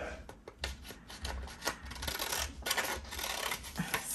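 Magazine pages being trimmed at a craft table, with a quiet run of crisp paper cuts and rustles in uneven rhythm, close and faint, with no talking.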